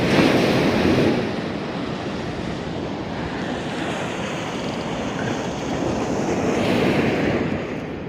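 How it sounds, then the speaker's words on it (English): Surf breaking and washing steadily on the shore at Hopton on Sea during beach fishing, with strong wind buffeting the microphone throughout; a continuous loud roar with slight swells in intensity, no voices. "you can see the way the waves are pulling in from the left to right."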